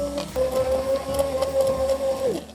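A blender whirs steadily while mixing a reduction of prawn heads that has had its thyme sprigs removed, a loud sustained motor hum that starts abruptly and winds down at the end.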